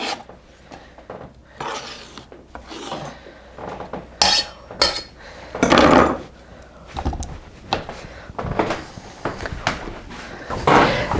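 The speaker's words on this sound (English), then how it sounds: "Instead of dirtying another bowl, I'm going to just put my corn right in my pot." Loose corn kernels tumble and clatter into a metal cooking pot in a series of uneven bursts, with scraping and clinking of utensils against the pot over about eleven seconds.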